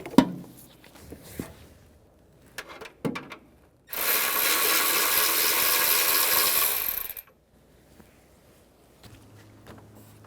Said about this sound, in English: Using an E10 socket, remove the bolts at the bottom for the heat shield.